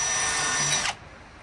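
A power drill whines at high speed as it bores a hole for a Rhinohide tractor canopy install, one sustained loud burst that cuts off abruptly, nearby and alone.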